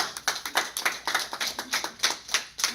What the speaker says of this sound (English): give that a round of applause